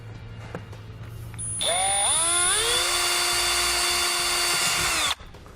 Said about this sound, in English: I'm going to take a small drill bit and I'm going to drill right through the plastic